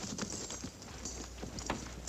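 Steady clip-clop of several cavalry horses' hooves on hard ground as a detail dismounts, moderately close, over a hissy background.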